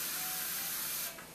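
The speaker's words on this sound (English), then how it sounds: "So I'm going to spray one arm" Vaseline Spray & Go moisturizer hisses out of its can onto an arm in a single steady, close spray lasting about a second before tapering off.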